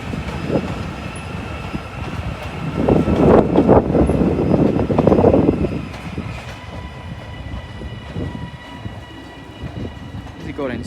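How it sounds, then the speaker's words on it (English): Northern unit 331107, an electric multiple unit on a service from Leeds, rolls through Doncaster station, its low rumble swelling to a peak in the middle then easing off amid a steady platform ambience. "In the back there, 331107 with the 1206 Northern train service from Leeds."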